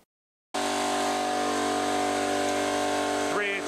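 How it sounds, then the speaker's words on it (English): An air compressor held at 55 PSI to feed a Longevity FORCECUT 40D 40-amp plasma cutter starts up after a brief silence and runs as a loud, steady motor hum with a constant mechanical drone. "I do have my compressor running to maintain my 55 PSI"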